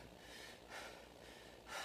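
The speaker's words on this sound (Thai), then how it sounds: "ฟังเสียงหอบดิ" A man pants heavily after doing push-ups, three rough, breathy exhales close to the microphone and fairly faint overall.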